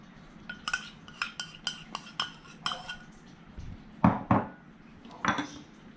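Glutinous rice is mixed with onion oil in a bowl, a utensil clinking and scraping against the sides in a quick series of sharp taps, followed by a few heavier, louder knocks near the end.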